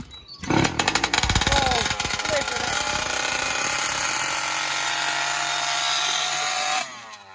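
A small engine is pull-started by hand, each sharp cord pull setting off bursts of loud rattling cranking until it catches and runs in a steady, buzzing roar close by, then cuts off near the end.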